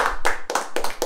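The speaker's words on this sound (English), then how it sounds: "Let's give a round of applause to Prisca." A small group claps for a winner at a home game-show forfeit round: a few quick, close bursts of hand claps in an uneven rhythm, short and fairly loud.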